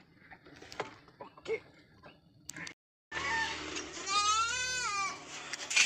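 A pregnant goat lets out a loud, wavering bleat close by after some quiet rustling and faint knocks.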